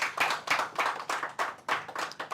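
A small group claps in short bursts of rhythmic hand claps, roughly eight bursts in a row at a mentee testimony session, fairly close and steady with no talking over it.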